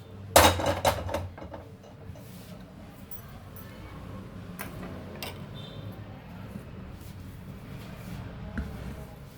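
A metal kadai set down on the stove while cooking a chana dal, a sharp clank near the start followed by quieter scraping and light metallic knocks against low kitchen background.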